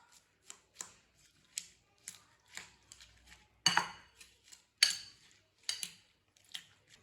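A spoon clinks and scrapes around a bowl in a rhythmic series of sharp taps while a spiced sandwich filling of salt, red chilli and ground cumin is mixed, fairly close and alone.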